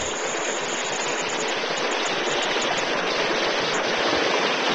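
Creek water pouring over a small low head dam built from gravel bags, rocks and geocloth, a steady broadband rush close by with no voices.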